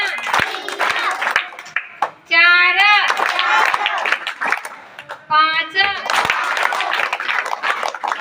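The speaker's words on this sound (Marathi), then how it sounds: "टाळी वाजवताना 1 ते 9 पर्यंत टाळ्या वाजवायच्या." Children in a school classroom clap hands in time while counting aloud, sharp claps falling in a steady rhythm between chanted numbers and a lead voice.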